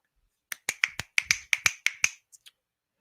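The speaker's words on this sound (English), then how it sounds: "Oh, we need some snaps." Nine crisp finger snaps come in a quick, even rhythm, followed by two fainter ones, close and clear against silence.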